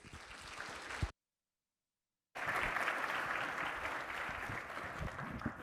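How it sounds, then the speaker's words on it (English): A conference audience at a Jamf user event applauds the speakers, a crowd-wide clapping that briefly drops out to dead silence partway through, then returns as a steady, full round of applause that gradually eases off. "Give them a round of applause."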